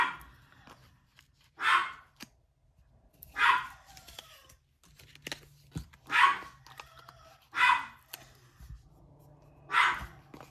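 A dog barks six times at steady intervals, each bark sharp and moderately loud, with quiet gaps between and faint background hum.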